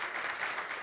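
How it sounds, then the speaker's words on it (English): Steady, dense clapping from a business conference audience, continuous and even throughout the short stretch, with no voices standing out. "Please, an applause for David"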